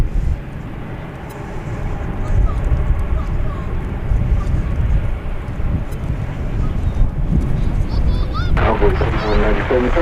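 A wide-body airliner departs DFW Airport bound for Haneda, its engines producing a loud, continuous roar with wind buffeting and a brief burst of radio chatter near the end.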